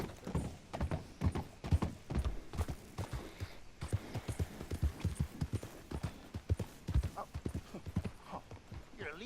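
Horse hooves clip-clop steadily in Red Dead Redemption 2, a close, rhythmic run of hoofbeats on the ground lasting throughout, with faint game sounds underneath.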